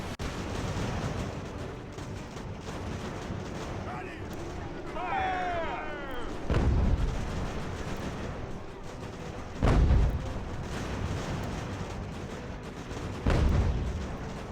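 Musket volleys and cannon fire on a battlefield in Ultimate General: American Revolution, with three heavy booms spaced several seconds apart over a steady crackle of distant musketry.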